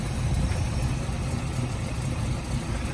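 A 1931 Plymouth P4 street rod idles steadily, its exhaust a constant low rumble with even vibration and no revving, heard close and alone.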